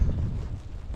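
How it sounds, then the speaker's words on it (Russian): Strong wind after a sudden shift, bringing a snow squall, buffeting the microphone during March fishing on the Pechora river, a steady low rumbling roar for about a second with no voices. "Резко поменялся ветер."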